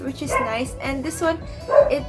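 A dog barks in the background of an indoor room, its short bursts mixed in and partly masked by a person talking steadily over it.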